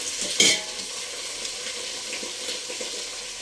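Mixed vegetables sizzle steadily in a pan for vegetable pulao, with a brief clatter of stirring early on, then a soft, even frying hiss throughout.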